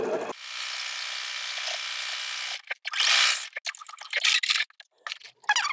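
A sewing machine runs a stay stitch on a machine-appliqué flower block: first a steady, close whirring run, then a series of short, stop-start bursts of stitching.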